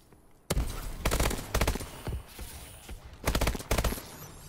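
Call of Duty: Advanced Warfare gunfire, several sharp bursts of automatic shots close up, separated by short pauses, loud and alone.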